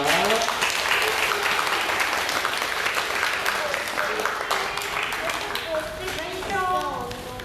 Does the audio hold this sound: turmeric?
no